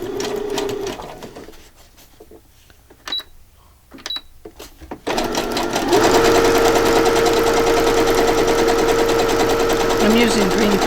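A sewing machine stitches with green thread, starting after a few clicks and quiet handling and then running as a steady loud whir for the last five seconds, with brief voices earlier.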